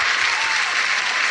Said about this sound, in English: Wait, so what was all the clapping?